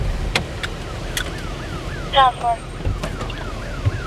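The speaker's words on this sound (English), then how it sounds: "Alarm is definitely going off." A repeating car alarm cycles through rising and falling electronic sweeps, moderately loud over steady outdoor wind and traffic rumble, with a brief chirp midway.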